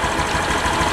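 A Honda BeAT 2020 scooter engine idling at low revs, a steady close buzzing hum with fine rapid pulsing, loud and continuous with no talk over it.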